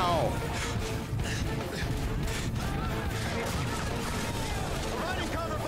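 Rapid, overlapping gunfire bursts from a Call of Duty Modern Warfare 3 firefight on the Black Tuesday mission, laying cover fire over a loud, dense battlefield din that never lets up, with voices and radio chatter mixed in.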